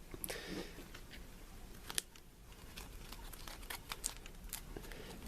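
Soft papery riffling and crinkling with a few sharp snaps as cards in snug Echoside plastic sleeves are shuffled close up, continuing steadily with no talking.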